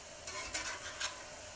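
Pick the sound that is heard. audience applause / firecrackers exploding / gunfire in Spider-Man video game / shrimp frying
shrimp frying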